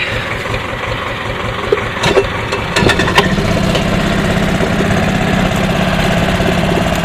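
A golf cart engine runs close by as the cart maneuvers in a tight space, a steady rumbling drone with a few knocks and clunks early on before settling into a continuous hum.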